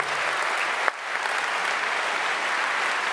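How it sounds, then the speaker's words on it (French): Audience applause at a live event, a dense steady wash of clapping from many hands lasting throughout, with one sharp louder clap standing out near the start. "Damien Morin, qu'on peut applaudir une fois."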